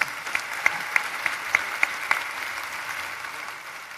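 A graduation ceremony audience gives a professor another round of applause, a broad steady wash of clapping with a few sharper claps standing out, somewhat distant in a large hall.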